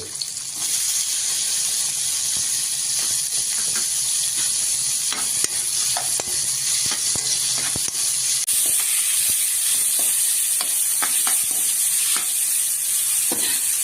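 Chopped tomatoes added to softened onions sizzle steadily in a pan for coriander chutney, while a spoon stirs and scrapes with frequent sharp knocks against the metal, loud and close, without speech.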